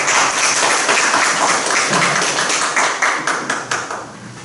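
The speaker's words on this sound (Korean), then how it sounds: "박수로 부탁드립니다" An audience at a public meeting claps, giving a dense burst of applause that fades slowly over a few seconds as the clapping thins out.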